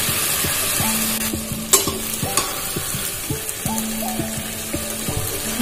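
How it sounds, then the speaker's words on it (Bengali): Katla fish pieces sauté in spice paste for a Bengali kalia, with a steady sizzling hiss beneath scraping stirs and occasional clacks of a spatula against the pan, close and continuous. "মাছগুলো দিয়ে আবার একটু কষিয়ে নেওয়া হবে"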